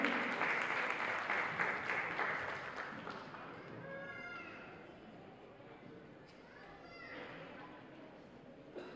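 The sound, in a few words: audience applause at a Mahalaya event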